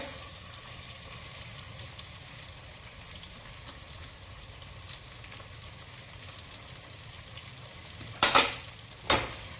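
Cumin and onion sizzling in a pan for tempering, a soft continuous frying hiss, with two sharp louder bursts of sizzle or clatter near the end.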